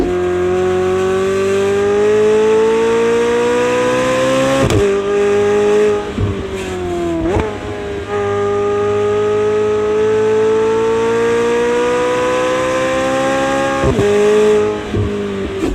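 A loud car engine revs with a rising harmonic tone, dipping sharply between shifts, a turbo whistle above and throaty exhaust throughout.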